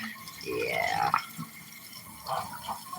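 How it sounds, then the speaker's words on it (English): Tap water runs and splashes over hands being washed at a sink, with fluctuating trickle and drip sounds, fairly close and steady, no talking. "I'm washing my hand one-handed."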